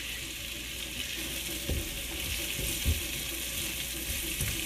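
Food frying on a stovetop burner, a steady broadband sizzle with occasional soft clinks of stirring, close and moderately quiet with no talk.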